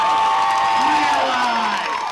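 A crowd at the 2007 Global Marijuana March in Cincinnati, Ohio, applauds and cheers, with a dense wash of clapping and shouted voices rising above it, steady and loud throughout.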